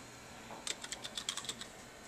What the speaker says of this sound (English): So you can type that in right over here.